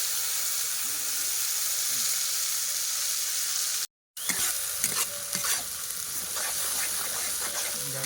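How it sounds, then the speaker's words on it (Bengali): Spice paste with chilli powder frying and being stirred in a pan for a rohu fish curry, a steady sizzling hiss with a brief silence midway, then scraping stir strokes over the sizzle. "ভালো করে নাড়াচাড়া করে নেবো, ভালো করে মশলাটা ভাজতে হবে।"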